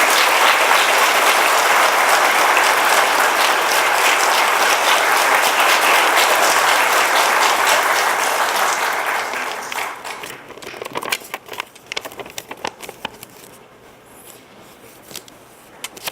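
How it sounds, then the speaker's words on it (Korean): Loud, dense applause from an audience of professors at a national university faculty rally welcoming a speaker, sustained for several seconds before thinning into scattered claps and fading. "큰 박수로 맞이해주십니다."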